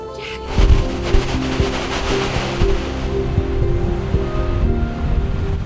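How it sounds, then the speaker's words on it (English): A waterfall at Fjárárgljúfur canyon in Iceland spills over a cliff edge into a river, making a loud, continuous roar of rushing water with gusty wind buffeting the microphone. "The waterfall is coming down the edge of the cliff and then meeting a river"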